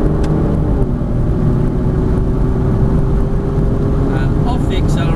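Aston Martin car engine accelerating and pulling through the gears, a steady loud drone close by with no pause, while a driving instructor talks over it.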